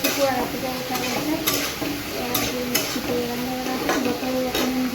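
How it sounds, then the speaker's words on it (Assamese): Onion and green chillies frying in oil in a home kitchen, steady sizzle with repeated spatula scrapes and clinks against the pan, close up, with faint background sounds and no clear talk. "তেলতে অকণমান পিঁয়াজ আৰু দুটামান কথা জলকীয়া ভাজি দিছোঁ"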